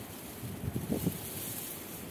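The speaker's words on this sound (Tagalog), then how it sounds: "ang lakas ng hangin" Strong gusty wind buffets the microphone outdoors with a low, rumbling rush, fairly quiet and steady with a few brief surges.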